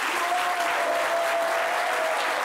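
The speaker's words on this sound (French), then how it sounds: "Madame la directrice, on peut applaudir très fort." Loud, steady audience applause in a French talk show studio, a dense wash of clapping with a faint sustained tone running through it, continuous throughout.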